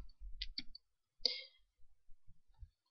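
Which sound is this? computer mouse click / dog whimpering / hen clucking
computer mouse click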